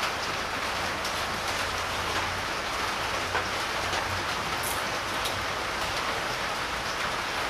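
Steady rain pours down on a hot, muggy day, a dense even hiss with scattered heavier drops, continuous and alone with no talking.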